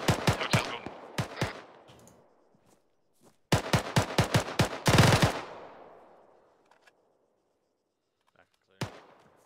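Gunfire during a military field training exercise, with infantry firing around rooftops and a hotel, sounds out in loud ragged bursts of rapid shots, a dense volley echoing and fading mid-stretch, then a lone sharp report after a quiet gap.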